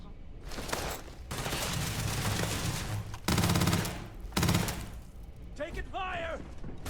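Rapid automatic gunfire in the space RPG Starfield, bursts of shots in dense volleys with brief pauses, loud and close, ending in a short electronic warble.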